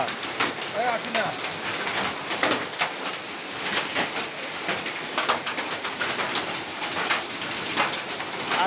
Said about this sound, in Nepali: आज खुब पानी पर्यो हैन, असिना पानी पर्यो हैन आज।